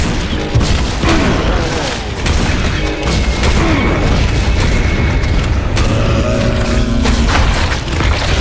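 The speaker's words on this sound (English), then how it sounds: "Belchers explode, so stay clear of their barf radius." Heavy booms and blasts fill a Serious Sam 4 battle as a Belcher enemy explodes. Loud, dense detonations and gunfire go on almost without a break.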